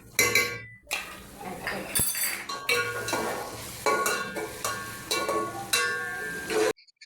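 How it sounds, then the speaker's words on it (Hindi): Ginger garlic paste with green chillies frying in a pan as a spoon clinks and scrapes against the metal in irregular bursts, with faint sizzling underneath and a brief spoken remark. "अदरक लहसुन के पेस्ट को हल्का सा फ्राई करने, इसी के साथ हरी मिर्ची भी इसमें"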